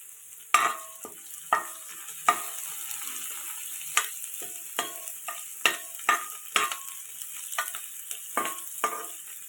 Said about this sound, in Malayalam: അതിലോട്ട് കുറച്ച് ചെറിയ ഉള്ളി ചെറുതായി കട്ട് ചെയ്തത് ഇട്ട് കൊടുക്കാം. അതിനോടൊപ്പം തന്നെ കുറച്ച് കറിവേപ്പില കൂടി ഇട്ട് കൊടുക്കാം.